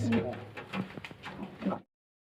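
Russian-breed pigeons at a pigeon farm, soft repeated cooing mixed with a voice in the background before a sudden drop to silence.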